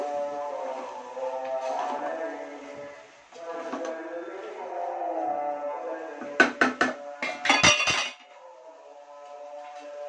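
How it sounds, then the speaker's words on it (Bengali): Fried rice with green chilies being stirred in a cooking pot, a quick cluster of sharp metal clinks and scrapes lasting a second or two, set against a steady tonal background. "এগুলি ভালো করে আমি একটু নাড়াচাড়া করে নিব"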